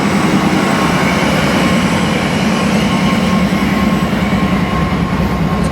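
An Amtrak passenger train rides the rails, heard from inside as a loud, steady rumble with a rhythmic wheel clatter and low hum throughout.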